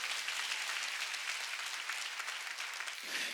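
A congregation claps together at a church worship service, a thick, even roar of many hands applauding continuously and loudly, easing slightly just before the end.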